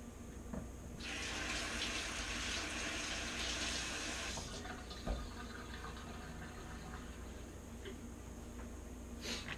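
Water from a tap runs while hands are washed at a kitchen sink, a steady hiss of flowing water lasting a few seconds, then cut off, followed by faint handling sounds.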